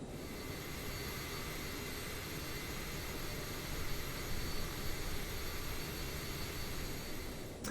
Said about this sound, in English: Engines are fully started.